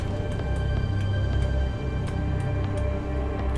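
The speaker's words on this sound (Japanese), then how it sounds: "クラウザーが歩いてる音がしますね。" Krauser's footsteps in the survival-horror game Resident Evil 4, a series of soft, evenly spaced steps heard faintly over a steady low ambient drone, with no talk.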